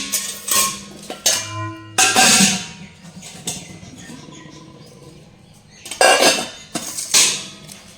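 A new kitchen pot and its lid are handled up close. Sharp metallic clanks and clatters come in uneven bursts with quieter scraping and shuffling between them, and no one speaks.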